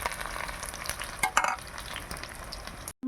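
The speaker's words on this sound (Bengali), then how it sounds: "পেঁয়াজ ভেজে নেব।" Chopped onions frying in oil with a bay leaf in a pan, a continuous close sizzle punctuated by stirring scrapes and a brief utensil clatter near the end.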